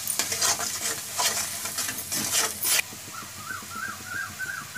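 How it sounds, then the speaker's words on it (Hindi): Potatoes and eggplant stirred and fried in a pan with curry powder and salt, giving a loud crackling sizzle with bursts of scraping stirs, then a steadier quieter fry with faint bird chirps in the background. "और इसे अच्छी तरह से मिक्स करके ये भूनेंगे।"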